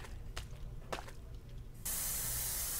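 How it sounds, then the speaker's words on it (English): An aerosol spray can paints a wall in the horror game Erie, a sudden loud, steady hiss that starts abruptly after a few soft clicks and thumps. "Gotta spray paint everything"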